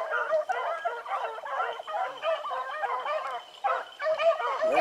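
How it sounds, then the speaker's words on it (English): Hunting dogs on autumn training runs give steady, overlapping barks and yips through the whole stretch, loud and fairly close, with no talk. "I got six dogs out there right now."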